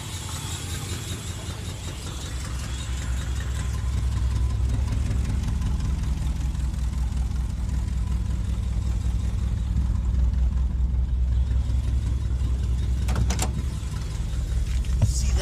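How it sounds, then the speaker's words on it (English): A 1959 Ford Thunderbird V8 settles into a steady, rumbling idle, a deep continuous engine drone heard close up, with a couple of faint clicks late on and no talking. "1959 Ford Thunderbird, starting right up like it was fuel injected."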